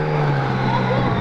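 A Yamaha Niken three-wheeled motorcycle on the move, a steady engine drone with road and wind noise, close and even throughout.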